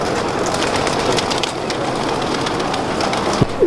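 Pigeons coo softly over a steady, noisy background hum, with a few faint taps near the end, in Lahore.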